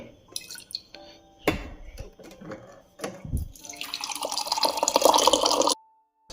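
A few clinks and drips, then a steady rising stream of hot water pouring into a container, stopping suddenly.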